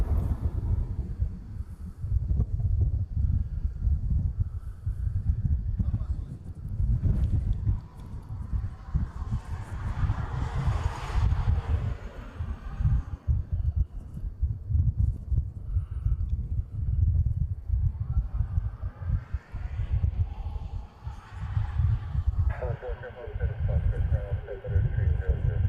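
A Southwest airliner taxiing toward the terminal at a Hawaii airport makes a steady, distant engine rumble that runs throughout, with people talking over it.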